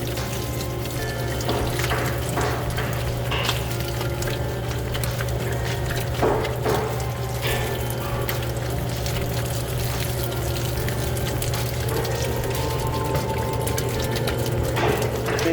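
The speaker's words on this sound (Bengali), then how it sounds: "এখন আমরা দিয়ে দিতেছি ধীরে ধীরে পানি।" Water runs slowly and steadily into pretzel dough mix, giving a continuous trickling, splashing sound over a constant low hum, close and without speech.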